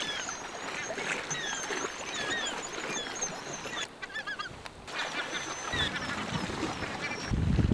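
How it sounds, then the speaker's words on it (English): Guillemots call near their nesting site on a Greenland coast, a dense chorus of croaking, honking seabird cries layered over one another, with steady water and wind noise underneath. "Here are some guillemots. I'm near their nesting site."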